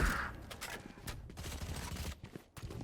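Gunfire in the first-person shooter Valorant, heard during a competitive esports match: faint, rapid bursts of shots and scattered footsteps blend into a busy, muffled game mix, with no voice over it.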